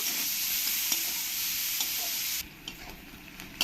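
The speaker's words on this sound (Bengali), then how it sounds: "পেঁয়াজ কুচিগুলো দিয়ে ভালো করে আমি একটু লাল লাল করে ভেজে নেব" Chopped onions fry in hot oil with a strong, steady sizzle and brief stirring scrapes, the sizzle dropping away sharply near the end to leave quieter clinks.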